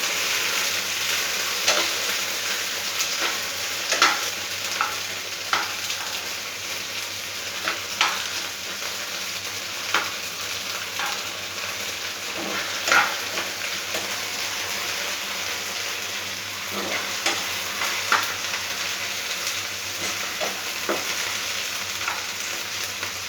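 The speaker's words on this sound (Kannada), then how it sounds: "ಇದು ಸ್ವಲ್ಪ ಎಣ್ಣೆಲಿ ಫ್ರೈ ಆಗಿ ಮೆತ್ತಗೆ ಹಾಕಿ ಫ್ರೈ ಆದಾಗ" Lady finger (okra) fries in oil with a continuous moderate sizzle, punctuated by regular scrapes and taps of a stirring spoon against the pan throughout.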